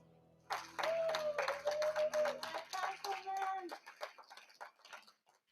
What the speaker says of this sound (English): May we have another resounding round of applause for Councilman Basheer Jones.